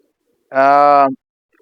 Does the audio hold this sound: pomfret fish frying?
no